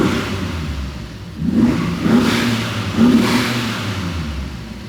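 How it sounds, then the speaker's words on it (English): Alfa Romeo 155 V6 engine, freshly fuelled during restoration, idling then revved three times in quick blips, each rise a throaty surge through the exhaust before settling back to a steady idle, close and fairly loud with no talk. "So yeah, let's rev it a little bit."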